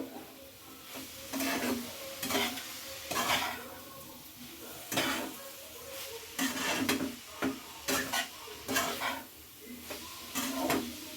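Chicken spring roll filling stirred in a pan with a little sugar: repeated scraping and clinking strokes of a spatula against metal over a soft sizzle, close by and in an uneven rhythm.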